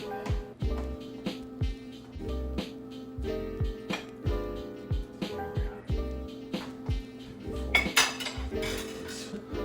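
Pasta all'amatriciana is tossed and stirred in a pan, with repeated metallic scrapes and clinks of a utensil against the pan at a steady rhythm, close and clear, with a brighter clatter near the end.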